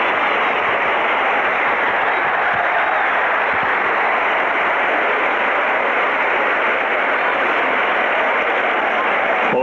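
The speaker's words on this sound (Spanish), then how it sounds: "Ovación cerrada a Teófilo Cubillas en esta vuelta olímpica" Ovation from a packed football stadium in Peru for a retiring player's farewell lap, a loud, continuous roar of cheering and applause, heavily compressed and unbroken throughout.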